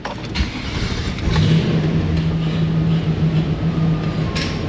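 A car engine turns over and settles into a steady, loud idle hum that continues without pause.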